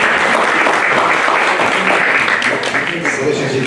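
An audience applauds at a piano competition ceremony, sustained dense clapping from a full hall, loud and steady throughout.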